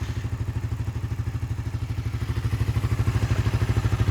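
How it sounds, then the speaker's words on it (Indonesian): A used Suzuki Satria F150 fuel-injected motorcycle engine, started from cold, idles with a rough, rapid pulsing putter, steady and close, growing slightly louder toward the end. "Nyalakan motor ini dari kondisi dingin"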